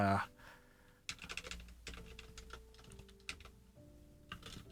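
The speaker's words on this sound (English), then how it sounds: "You guys can probably hear the keyboard I'm typing on, right?" Rapid, uneven clacking of a wireless mechanical keyboard with lubed Halo switches and Zeal stabilizers, close and fairly quiet, with bursts of keystrokes separated by short pauses.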